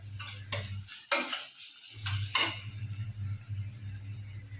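Onion, tomato, mustard seed, cumin and garlic stirred in a pan for bhindi masala with turmeric being added, several sharp scraping strokes over a low steady sizzle, close up.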